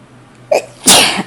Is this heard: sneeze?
yes